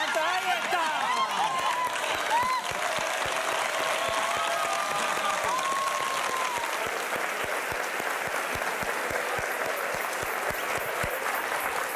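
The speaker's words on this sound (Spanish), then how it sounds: "Irving, es la primera vez que te aplauden por no tener agua año y medio." A studio audience applauds and cheers on a live variety show, with dense sustained clapping throughout and excited voices and whoops over it early on.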